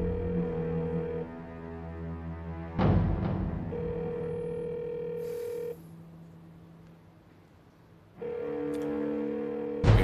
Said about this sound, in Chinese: 你快点给汪经理打个电话吧。